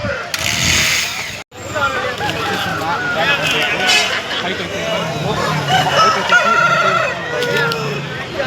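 Roosters crow loudly and repeatedly over clucking fowl and a busy babble of voices at the weekly Sunday poultry market in Piler.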